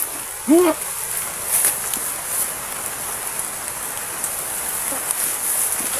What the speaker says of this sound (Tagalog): Yung ulan na oh.